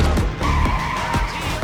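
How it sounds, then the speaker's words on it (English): A luxury car loses control with tires squealing in a sustained skid over a low engine rumble, loud and close, no voices. "The car instantly lost control. It veered off and crashed hard into the valley below."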